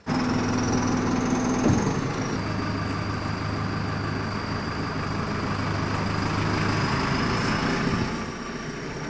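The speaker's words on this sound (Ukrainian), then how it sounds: "Це екскаватор, який допомагатиме в ремонті підземних тепломереж." A new excavator for repairing underground heating mains runs its engine nearby, a steady, loud mechanical drone with a low hum and rattle that holds for about eight seconds, then eases slightly at the end.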